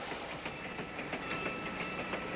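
A passenger train rolls along the rails in a steady rumbling roar, its wheels clicking over track joints in a regular rhythm, heard from inside a carriage compartment with no talking.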